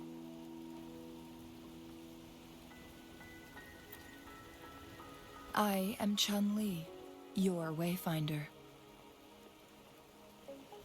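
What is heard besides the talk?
rain in the video game Wuthering Waves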